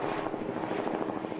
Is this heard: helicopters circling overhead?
yes